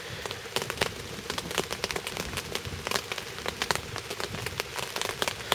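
Rain falling at night on a fishing session, a steady patter with many close, sharp drops striking a surface, moderately quiet and continuous with no talking.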